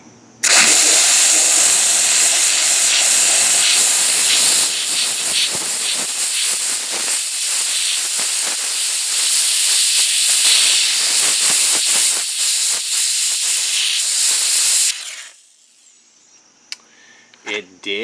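A Wagner Spraytech SteamMachine blasts steam onto a nut: a loud, steady high hiss runs for about fifteen seconds, then cuts off, leaving near-silence with a few small clicks.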